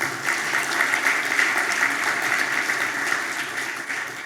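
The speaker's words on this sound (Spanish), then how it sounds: "Un aplauso." An audience applauds a Costa Rican Chamber of Industries vice-president at a business panel on democracy, with steady, dense clapping throughout at close range and no voices over it.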